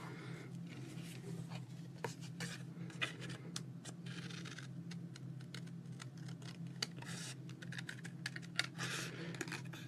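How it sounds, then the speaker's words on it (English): Steady rapid clicking and snipping runs nonstop at close range under a low hum, as scissors cut a paper figure for a Christmas artist trading card craft. "let's get my scissors, because I'm going to cut him out."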